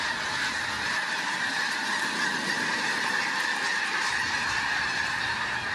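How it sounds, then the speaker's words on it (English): A large flock of snow geese honks continuously, a dense chorus of overlapping calls that fills the whole stretch at steady, fairly loud level with no voices. "the sound of when that flock arrives"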